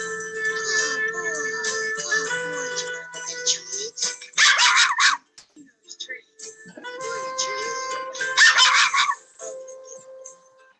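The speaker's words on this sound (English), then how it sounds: "That bark, I heard the bark." A dog barks and yips repeatedly in bursts, with howling, whimpering tones and short gaps between outbursts, heard close and loud with no talk over it.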